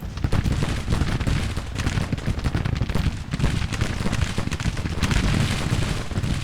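Musket volleys from Civil War skirmishers and infantry firing lines in the Grand Tactician strategy game, a dense continuous crackle of overlapping gunshots with rumbling booms, loud and unbroken throughout.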